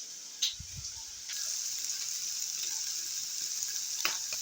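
A steady sizzle of chicken frying in a pan, with a brief low knock near the start and faint clinks over the constant hiss.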